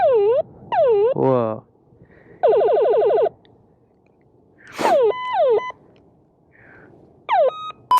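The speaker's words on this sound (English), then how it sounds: "I'm gonna throw in some clips of the different horn sounds." A Sur-Ron Hyper Bee e-bike horn cycles through several electronic tones: wailing sweeps, rapid warbles and beeping chirps in separate loud bursts with short gaps, and a voice briefly exclaims once.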